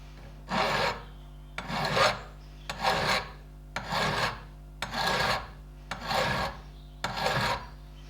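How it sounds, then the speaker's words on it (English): Seven slow, even rasping strokes of a file scraping metal on a Ferguson TED20 tractor gear lever, each about half a second long, separated by short pauses over a steady low hum. "Might need to file a bit more."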